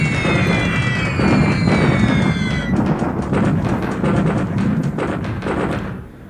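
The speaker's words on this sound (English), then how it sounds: "The airbase is bombed" Bombs from an airstrike pound an airbase in the War in the Pacific strategy game, a loud run of dense crackling explosions and rumbling bursts with falling whistles at the start.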